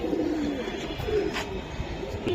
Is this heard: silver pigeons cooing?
yes